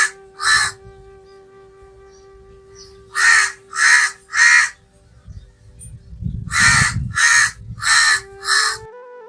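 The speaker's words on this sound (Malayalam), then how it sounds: "കാക്ക മതിലിൽ വന്നിരുന്ന് ക്രാ ക്രാ കേൾപ്പിക്കുമ്പോൾ നാം ആട്ടി ഓടിക്കും" A crow cawing nearby, loud harsh calls in short bursts: one caw, then a run of three, then a rapid series of five, with a faint steady tone and low background rumble underneath.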